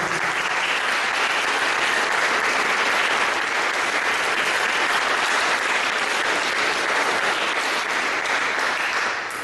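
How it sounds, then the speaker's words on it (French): A church parish talent-show audience applauds a guest on stage, producing dense, steady clapping that stays loud and even for about nine seconds before easing slightly at the end. "On peut applaudir Monsieur Bonnour."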